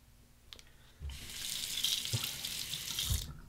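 Tap water runs steadily into a bathroom sink as a Henson AL13 safety razor loaded with stubble is rinsed under it, a loud continuous splash broken by a few soft clinks of the razor against the basin.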